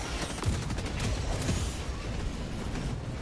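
An automatic sentry turret in the combat game Helldivers 2 fires a dense, continuous fusillade of rapid shots, held at a fairly low, steady level without pause and with no voices.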